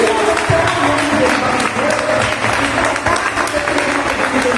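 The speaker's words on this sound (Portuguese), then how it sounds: "Você pode dar um aplauso ao Senhor?" A church congregation applauds for the Lord, with dense, continuous clapping filling the room alongside voices, loud and sustained throughout.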